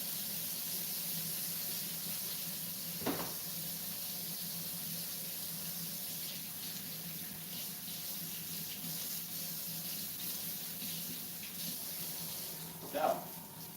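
Water runs steadily from a kitchen tap over a silicone spatula being rinsed, a continuous faint hiss with a couple of brief splashes.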